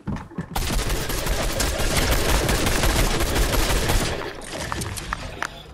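Fortnite gunfire rattles as a rapid, dense burst lasting several seconds, loud and continuous, then cuts off, leaving a few faint scattered shots.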